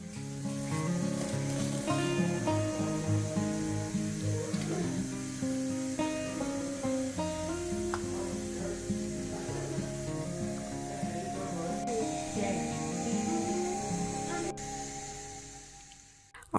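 Onion, garlic, ginger and green chilies fry in hot oil as a tadka for dal, giving a steady sizzle that runs the whole time beneath prominent tonal music.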